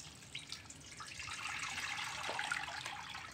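Lukewarm water poured over baobab seeds, a steady splashing trickle that builds slightly and holds at a moderate level for a few seconds, with no voices.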